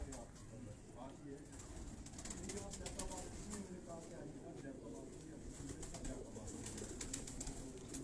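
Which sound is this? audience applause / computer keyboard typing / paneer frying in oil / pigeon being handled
pigeon being handled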